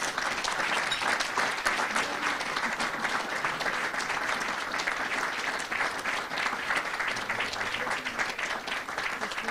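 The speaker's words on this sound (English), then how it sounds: "if everyone would please give them a round of applause for their service." Sustained audience applause at an awards ceremony for alumni and student award recipients, dense steady clapping from a large crowd that holds at full strength throughout with no talk over it.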